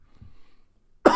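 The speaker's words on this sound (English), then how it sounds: "I'm sorry for my cough." A single sharp cough bursts out at the end after near silence, close and loud.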